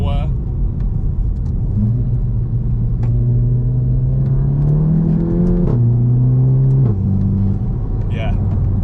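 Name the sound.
Golf GTI MK7.5 Remus exhaust revving and popping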